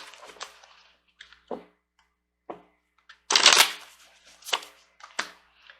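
Tarot cards shuffled by hand in a run of quick, crisp riffling bursts with short pauses between, one longer and louder flurry in the middle, close and clear with no talking.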